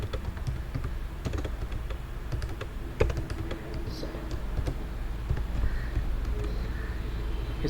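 Keys clack steadily on a computer keyboard while text is entered into HTML code, a run of quick close taps with one sharper hit midway and a low background hum.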